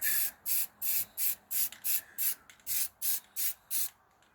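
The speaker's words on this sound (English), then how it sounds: "sometimes you have to clean out your spray bottles" Eleven short bursts of aerosol spray hiss in a regular rhythm, each about a quarter second, close and crisp with brief silences between.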